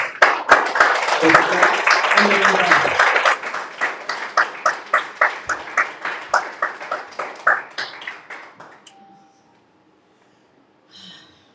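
A standing church congregation applauds the Lord, dense clapping mixed with voices at first, then thinning into a steady rhythm of single hand claps that fade to near silence.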